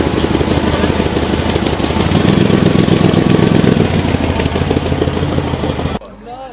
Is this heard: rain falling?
no